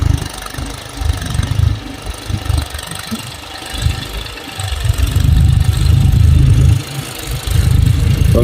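A tractor engine idles loudly and close by on a levelled farm field. Its deep, chugging throb surges and dips in uneven pulses, with a steadier, heavier stretch partway through.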